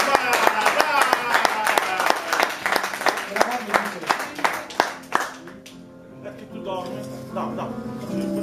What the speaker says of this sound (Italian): ma glielo facciamo questo applauso.